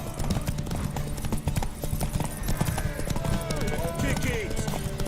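Horse hooves clip-clop at a steady gallop during a race in The Witcher 3, mixed with game background noise and occasional shouting voices.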